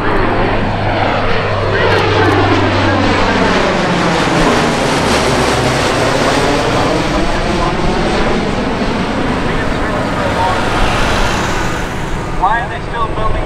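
A C-130 Hercules turboprop drones loudly overhead at an airshow, its engine roar sweeping in pitch as it passes, with a voice speaking underneath.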